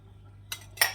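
A spoon stirs spicy Italian mussel soup with mushrooms and wine in a pot, giving two short metallic scraping clinks close by, with no talk.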